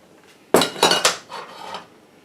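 A metal pan is handled and set down in a home kitchen, giving a sharp clank followed by a few quick scraping knocks and a softer rattle, close and alone.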